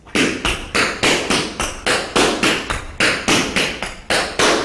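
Tap dance double drawback steps: crisp, bright metal taps on a hard floor in quick repeated clusters with a steady rhythm, close and loud, no talk.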